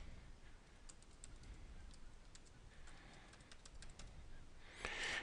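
Typing on a computer keyboard, a quiet, irregular run of light key clicks against a faint background hiss, ending in a slightly louder burst of keystrokes.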